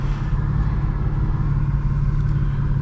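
A manual BMW M3 F80 engine drones steadily and loudly at close range, a constant low rumble with slight rises as it works through the gears, no voices over it.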